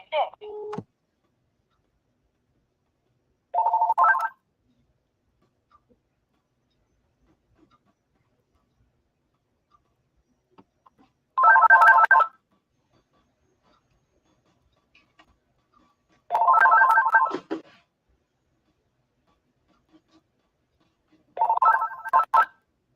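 An old phone found at a thrift store dials and rings: four separate bursts of tones, each about a second long, are heard clearly, with near silence between them and no voices.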